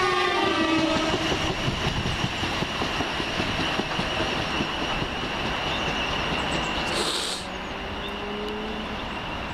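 A Class 455 electric train running as empty stock passes close by at Hilsea, a loud steady rush and rumble of wheels on rail with brief clatter, fading slightly toward the end.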